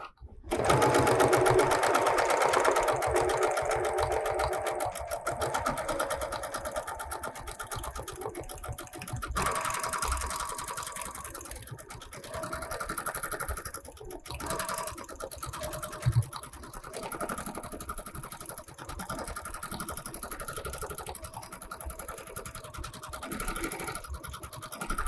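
A Bernina sewing machine with a #43 free motion couching foot runs steadily, stitching through stabilizer and cotton with a fast, continuous whirring chatter that is loud at first and then settles, close and without pause.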